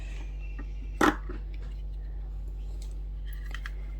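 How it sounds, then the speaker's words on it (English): Scissors snip once through open weave ribbon in Evening Evergreen, a short sharp cut near the one-second mark over a steady low hum, with a few faint handling rustles before and after. "I got my scissors and I cut it straight up the middle"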